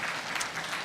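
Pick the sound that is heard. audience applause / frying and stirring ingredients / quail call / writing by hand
audience applause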